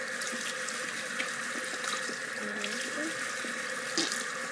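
Water pours steadily from a tap into a sink, a continuous splashing hiss with a few small clinks and knocks of dishes.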